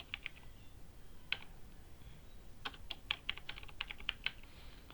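Computer keyboard typing while a programmer writes code, quiet scattered keystroke clicks in short bursts with pauses, no speech.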